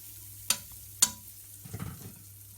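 Bread toasting in a pan with margarine over a medium flame: two sharp taps ring out, then a soft, brief sizzle rises against a quiet background hum.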